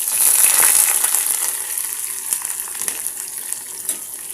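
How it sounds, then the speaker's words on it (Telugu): Onion, garlic, dried chillies and curry leaves fry in oil as a tempering for sambar, making a loud hissing sizzle that eases slightly over time, dotted with small pops and crackles, with no talking. "ఇప్పుడు దీన్నంతా మంచిగా కలబెట్టేసుకొని బాగా లైట్ బ్రౌన్ కలర్ వచ్చేంత వరకు పోపు అనేది వేయించుకుందాం"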